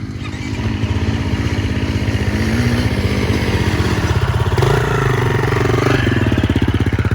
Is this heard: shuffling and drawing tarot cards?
no